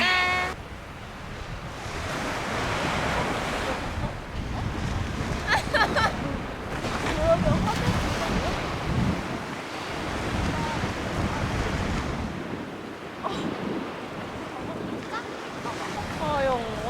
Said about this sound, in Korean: 파도 소리 ASMR.